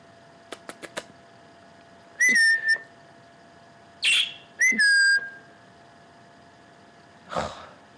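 A pet bird gives several sharp, loud whistles in short bursts with gaps between them, after a few quick clicks at the start; there is no talking.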